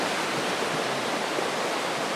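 A turbulent river rushes past a campsite at Paris Springs campground, a loud, steady broadband roar of churning water that fills the whole clip with no voices.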